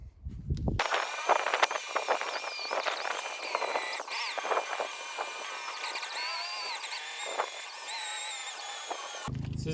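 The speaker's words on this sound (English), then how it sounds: "I'm going to take the eraser to this side and we'll get going." An eraser wheel on a power drill whirs steadily against car paint, scrubbing off factory decal residue, with a continuous close, slightly fluctuating whine and scraping for nearly the whole stretch.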